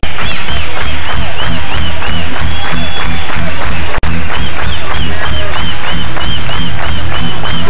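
Dense, loud applause and crowd cheer from a festival audience at the Festival Surf & Arena in Acapulco, sustained and continuous throughout.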